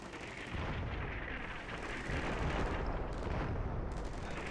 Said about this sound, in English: the mortars start coming in